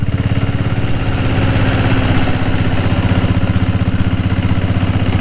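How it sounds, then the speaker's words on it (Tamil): A Kerala diesel Bullet motorcycle engine with cam noise idles loudly up close, a fast, even chugging pulse with a faint mechanical ticking mixed in. "கொஞ்சம் கேம் நாய்ஸ் வருது."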